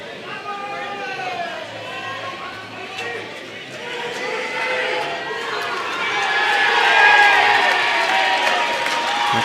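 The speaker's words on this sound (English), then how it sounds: "It's Moonee Valley crowd noise." A Moonee Valley crowd at a lawn bowls premier grand final against Deer Park murmurs and chatters, then the cheering swells louder toward the end, with voices shouting over it.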